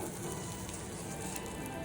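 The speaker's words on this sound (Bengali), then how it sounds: "গরম হয়ে গেছে আমি এখন ফোড়নে দিয়ে দিচ্ছি শুকনো লঙ্কা" Dry red chillies sizzle in hot mustard oil in a kadai as a tempering, giving a steady close hiss and crackle with no talk.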